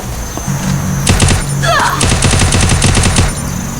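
Rapid gunfire bursts from the battle-royale game Free Fire rattle loudly over a steady game background, with a short whooshing sweep in the middle before several more quick volleys.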